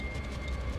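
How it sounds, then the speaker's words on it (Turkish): A train pulls in within the Poppy Playtime: Project Playtime video game, a steady loud rumble of rolling rail cars with a faint high whine, continuous and close for under a second. "Board the train."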